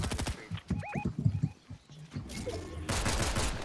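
Bursts of rapid Fortnite gunfire crackle loud and close in quick volleys, mixed with sharp synthetic chirps and a swelling noisy rush at the end, with no voices.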